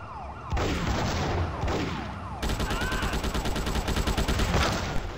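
In the handheld game GTA Chinatown Wars, rapid bursts of gunfire crackle over wailing sirens. The action is dense and loud, and the shots turn into a fast rattling volley in the second half.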